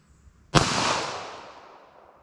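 A single loud 9mm pistol shot firing Hornady Critical Duty rounds at a car windshield outdoors: one sharp, close crack followed by a long, fading echo.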